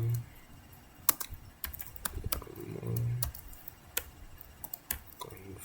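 Keystrokes on a computer keyboard while entering a command into the nano text editor, a scattered run of quiet individual clicks with short pauses and low background hiss, no voices.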